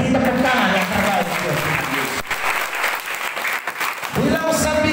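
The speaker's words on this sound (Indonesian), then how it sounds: "beri tepuk tangan yang terbaik" A church congregation during a sermon breaks into sustained, loud applause lasting several seconds, with voices speaking and calling out over the clapping.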